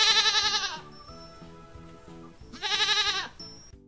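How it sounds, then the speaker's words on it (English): A goat bleats twice, loud and close, with wavering, nasal calls separated by a short pause. "Goat."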